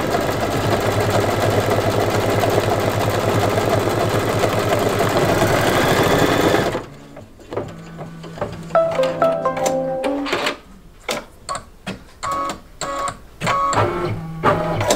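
A single-needle embroidery machine sews the final satin stitching in darker thread, first as a loud, steady run of rapid stitching that stops abruptly, then continuing in short, intermittent bursts with pauses in between.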